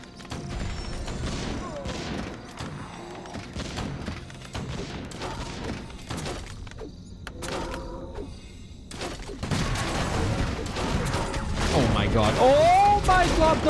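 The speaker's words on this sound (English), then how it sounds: "Oh my god, the mortar team!" Warcraft III mortar teams firing in a match, a dense run of booming shots and crashing impacts that grows louder and busier toward the end, with caster talk throughout.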